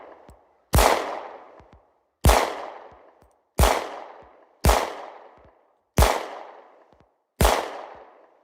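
A Beretta 9000S .40 caliber pistol fires six sharp, loud shots, each with a short ringing decay. The shots are spaced roughly one to one and a half seconds apart, and no one speaks.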